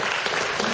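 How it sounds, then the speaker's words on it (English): A panel discussion audience breaks into applause, a dense, loud wash of clapping that runs unbroken through the whole brief moment. "I think you should give a round of applause for Hari."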